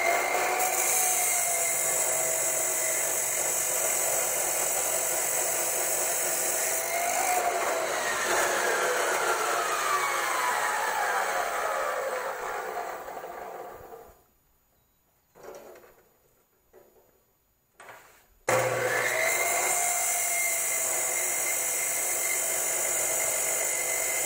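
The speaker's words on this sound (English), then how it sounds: "cutoff saw" A Harbor Freight cutoff saw runs with a loud, steady whine and sweeping grinding tones as it cuts, briefly dropping to near silence before starting up again at full volume.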